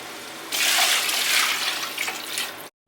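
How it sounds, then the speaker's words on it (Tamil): Water pours into a pot of rice, a steady splashing gush lasting about two seconds before cutting off abruptly, close and fairly loud. "இப்போ நம்ம தண்ணி வந்து சேர்த்துக்க போகிறோம்"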